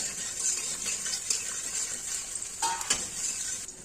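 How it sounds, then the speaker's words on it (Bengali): Potatoes fry in oil in a wok with a bright, steady sizzle, punctuated by a few stirring scrapes near the end. "আলু ছেড়ে দিচ্ছি, ভাজবো আলুগুলো।"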